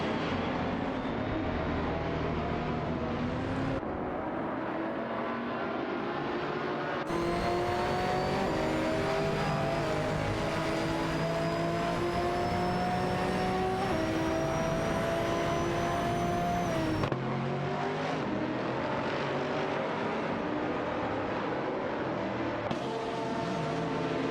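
Race cars, including a Lamborghini Gallardo, roar through a video game AI race: a continuous, loud engine drone with rising and falling pitch sweeps as the cars accelerate and shift, with no talking.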